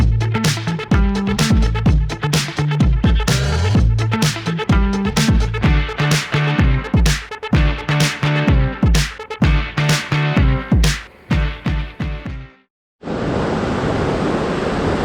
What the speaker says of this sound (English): we're right above a waterfall